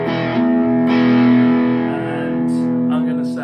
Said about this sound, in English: I've got my Boss DS2 on, with the distortion on full.